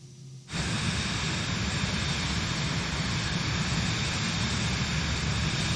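An airliner's engines in Microsoft Flight Simulator surge abruptly to a steady, loud, broadband roar after the autothrottle engages, holding constant with a faint high whine on top.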